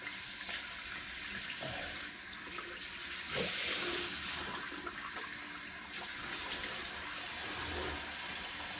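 Cold water runs steadily from a tap to rinse a freshly shaved face, a continuous close splashing hiss with brief surges as hands dip into the stream, no voices.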